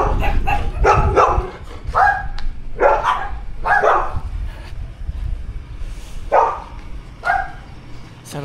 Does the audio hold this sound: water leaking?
no